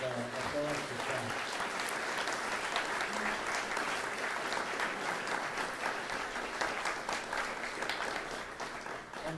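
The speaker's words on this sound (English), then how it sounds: "please join me in giving a warm hand of applause to Scott" Sustained applause from an audience at a science pub talk on earthquakes in Chile and Haiti, steady dense clapping for about nine seconds with a faint voice near the start.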